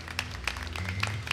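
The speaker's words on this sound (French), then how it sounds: "Acclamons fort pour le Seigneur." A congregation claps together during a bilingual Sunday church service, a dense, steady burst of applause filling the room with no voices over it.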